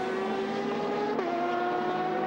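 Onboard sound of Mike Conway's number 7 endurance race car at the 2017 WEC Bahrain round: a loud, steady high engine drone holding pitch with a brief shift midway, continuous with no talk.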